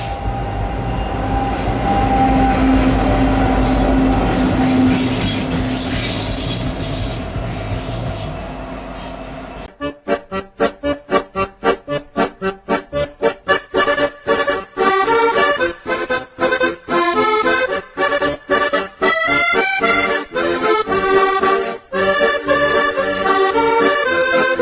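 A train passes on railroad tracks, first as a loud rumbling roar with high wheel squeal, then as a rapid run of sharp rhythmic clicks and clanks from the cars rolling over the rail joints, close and loud with no talking.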